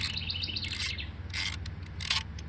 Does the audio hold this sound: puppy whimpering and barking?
no